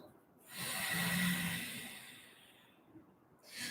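Audible Ujjayi yogic breath drawn through the nose with the lips closed, a single long, soft, airy rush that swells and then fades, close and quiet with no talking.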